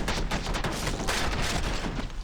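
Rapid gunfire in the shooter F.E.A.R., a dense volley of sharp cracks and booms layered together, loud and continuous for a couple of seconds.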